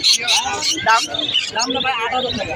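Parrot-like pet birds in a bird shop give a quick run of bright chirps and squawky calls, loud and close.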